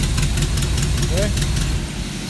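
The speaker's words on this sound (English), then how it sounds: "And there's your car." A car engine idles close by with a steady, even mid-range rumble, a voice talking over it for most of the clip.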